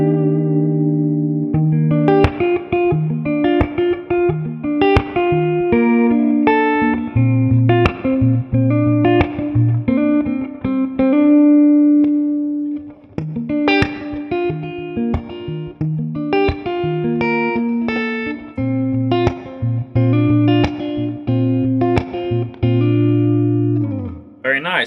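Gibson electric guitar on a clean channel through the neck humbucker, playing a sustained run of chords and single notes with a warm, full tone and light reverb, loud and close with no talking.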